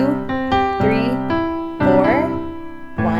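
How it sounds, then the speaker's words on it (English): Piano playing a song, the left hand repeating each chord four times under a simple melody, with clear sustained notes struck at an even pulse. "left hand will play the chord 4 times instead of just 2 times."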